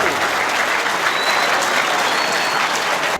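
Loud, dense applause from a studio audience cheering contestants on an educational quiz show, a continuous close wash of many clapping hands lasting the whole moment before cutting off.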